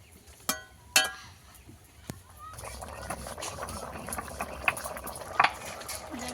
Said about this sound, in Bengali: তরকারিটা আমার ভালো মতো ফুটে গেছে।